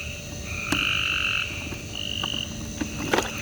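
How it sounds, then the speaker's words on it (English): Loud frog croaks ring out in long, buzzing calls, overlapping and repeating against a steady night background with no talking. "these frogs out of control. Like, why are y'all so loud?"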